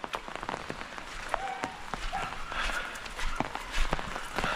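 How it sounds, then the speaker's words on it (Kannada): Rain patters on a surface with scattered louder drips and taps, a fairly close, uneven spatter with no voices. "ಇಲ್ಲಿ ಅಂತೂ ಜೋರಿದೆ ಮಳೆ"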